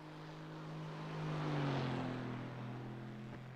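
An Aston Martin GT4 race car in a sim racing game at Zandvoort passes with a droning engine, its pitch sliding downward as it swells and then fades, with no talk.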